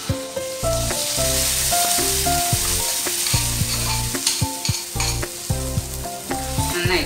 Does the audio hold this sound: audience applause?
no